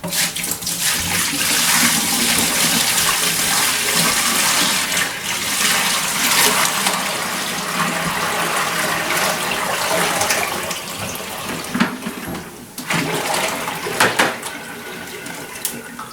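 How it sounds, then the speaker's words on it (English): Turkey brine poured out into a sink, a steady, loud rush of water splashing continuously for about sixteen seconds with a few brief dips and surges near the end. "And we're done with the brine, so we can go ahead and dump that out."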